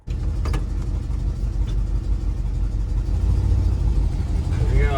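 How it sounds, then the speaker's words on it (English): An old Ford F-100 pickup that has sat unused for years, out on its first test drive, sends a steady low engine rumble up close. The drone swells slightly as it accelerates, and brief tones and noises sit over the rumble. "It's time to take it on its first test drive."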